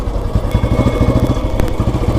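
Motorcycle engine idling in Dhanbad city just before parking, a steady, close, low throbbing rumble with fast, even pulses and no talking.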